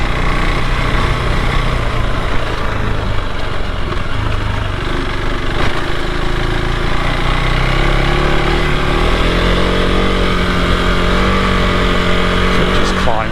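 A KTM 390 Adventure R motorcycle engine drones steadily while climbing an incline, its pitch rising slightly near the end, with constant wind buffeting throughout and a voice speaking over it.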